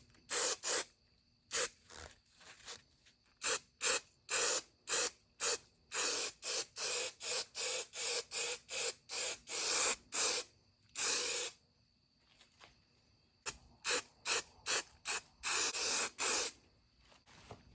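Short, sharp bursts of spray adhesive hit rubber seat padding for a 1968 Fastback driver's seat, about twenty close hissing puffs in an uneven rhythm with brief gaps, some bursts longer, and no talking.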